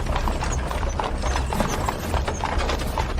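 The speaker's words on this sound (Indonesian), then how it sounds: "kereta kuda siapa ini?" An ornate, luxurious horse-drawn carriage rolls past with steady, close clip-clopping hooves that carry on alone throughout, backed by a dense rumble of wheels.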